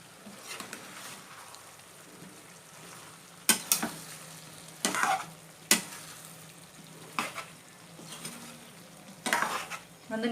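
Chilli meal maker frying in a pan, a low steady sizzle broken by several sharp scraping stir strokes of a spatula at irregular intervals, close and moderately quiet, with no talking.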